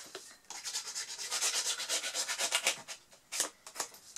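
A piece pressed and rubbed firmly along the edge of a heart-shaped mould for a resin mini seascape gives close, steady scraping strokes in a quick rhythm, pausing briefly, then a few sharper rubs near the end.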